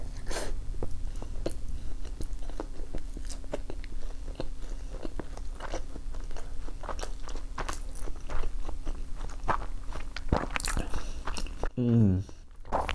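Close crunchy biting and wet chewing of sushi from a platter, with scrapes and rustles, under a steady voice talking throughout and a brief louder vocal sound near the end.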